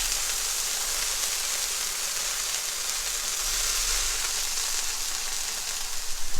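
Sausage sizzling in grease on a Blackstone griddle, a steady close hiss and crackle that holds evenly throughout, with no talking.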